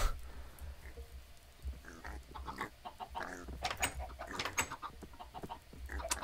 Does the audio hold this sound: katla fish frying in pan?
no